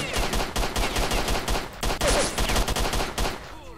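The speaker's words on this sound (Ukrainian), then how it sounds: "Хто по мені стріляє?" Rapid gunfire in the video game S.T.A.L.K.E.R.: Shadow of Chernobyl, bursts of automatic shots in quick repeated volleys at a dump site, loud and close, with no talking over it.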